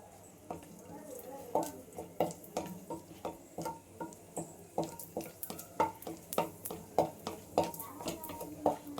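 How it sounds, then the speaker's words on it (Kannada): Cashews frying in a few spoons of ghee in a pan, stirred with a spoon: a quiet sizzle under a steady series of sharp taps and scrapes against the pan, with a voice speaking faintly. "ಸ್ವಲ್ಪ ಫ್ರೈ ಮಾಡ್ಕೊಳ್ಳಿ, ಸ್ವಲ್ಪ ಕಲರ್ ಚೇಂಜ್ ಆಗೋವರೆಗೂ"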